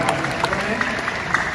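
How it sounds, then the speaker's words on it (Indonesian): Light, scattered audience applause follows a university lecture in an indoor hall, soft clapping from a modest crowd with no talk. "Tepuk tangan."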